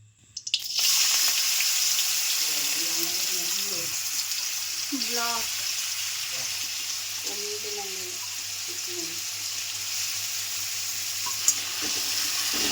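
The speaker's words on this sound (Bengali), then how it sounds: "আলুটা দিয়ে দিয়েছি, এবার আলুটা একটু ফ্রাইয়ের মতো করে নেবো" Potatoes fry in hot oil, a loud, continuous sizzle that starts abruptly and holds steady, with faint tonal scraping or clatter mixed in partway through; no speech.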